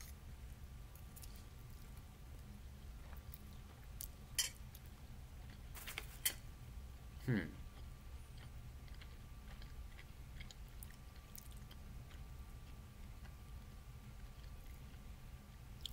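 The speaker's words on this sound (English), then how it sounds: "I'm just chewing, give me a sec." Someone chews food close to the microphone, with soft, irregular mouth sounds and a few small clicks over a steady low background hum; no one talks.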